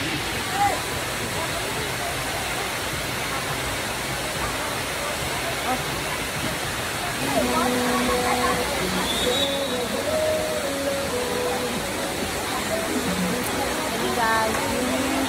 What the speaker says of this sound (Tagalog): Tinago Falls.